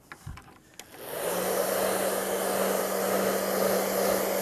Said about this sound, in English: I have the blower.